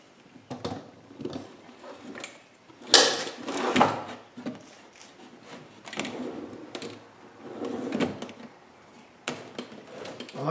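Newly built kitchen cabinet drawers gliding on inner sliders, opened and closed in a workshop, giving a string of soft rolling slides and sharper knocks and thumps, the loudest bumps near the middle, with no talk.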